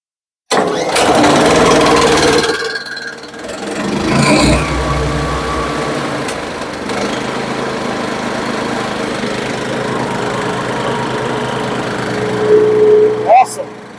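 A Mech Maxx 15hp wood chipper's gasoline engine is pulled over, catches and runs steadily at a loud, close idle for most of the stretch, with a brief rev near the end.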